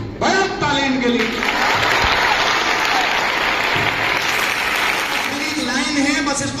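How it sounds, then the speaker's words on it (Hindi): A crowd of female students applauds loudly and steadily in a school hall, the clapping continuous and full, with a voice speaking briefly at the start and again near the end. "आपने बड़ा ताली इनके लिए"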